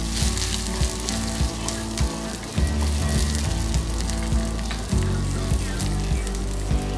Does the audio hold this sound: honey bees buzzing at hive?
no